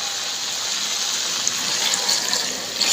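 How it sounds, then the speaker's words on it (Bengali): Water pours steadily into a pan of chickpea curry, a close, continuous gushing splash that builds slightly toward the end with no talk. "দিয়ে দেবো জল।"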